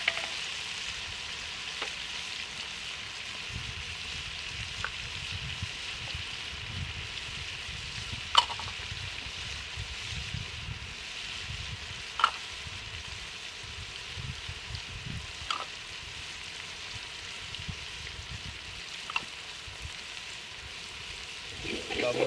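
Spinach and potato masala frying in a pan, a soft steady sizzle under occasional stirring and faint scraping, with a few clacks of a spoon against the pot.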